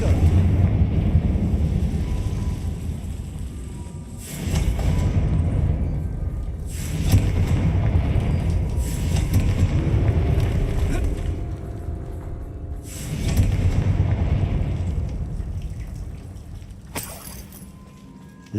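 Spell blasts from a Harry Potter-style video game, heard as repeated loud booming explosions with low rumbling bursts roughly every few seconds over a continuous noisy background.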